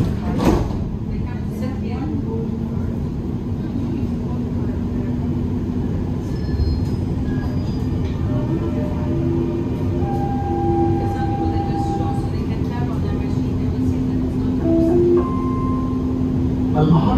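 Dubai Metro Green Line train doors slide shut with a thump, then the carriage hums and rumbles as it pulls away, motor whine rising steadily; an automated voice announces over the noise.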